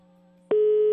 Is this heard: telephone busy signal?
yes